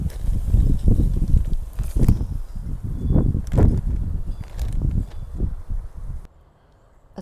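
Wind gusts through a Florida butterfly garden, buffeting the microphone in loud, uneven rumbling waves that rise and fall before dropping away at the end.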